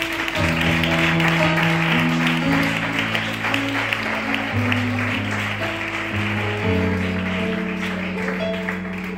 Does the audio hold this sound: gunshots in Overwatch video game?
no